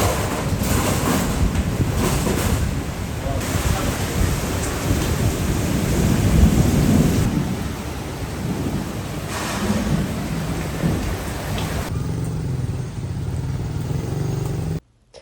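Heavy rain and rumbling thunder roar steadily in a storm, with gusting wind buffeting the microphone before the sound cuts off abruptly.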